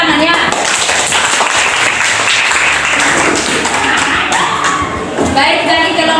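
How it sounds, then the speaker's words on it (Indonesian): A classroom of students applauds during a chemistry lesson, a dense, continuous wash of many hands clapping at once, loud and close throughout. "Tepuk tangan ya."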